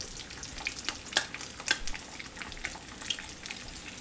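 Freshly cracked eggs, three per person, sizzle softly in a frying pan, a quiet crackling hiss with a few brief sharper pops and faint scraping, no one speaking.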